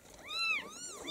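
A kitten from a litter of white, black, ginger and grey kittens gives a short, high, wavering meow in two quick rising-and-falling calls, close and clear.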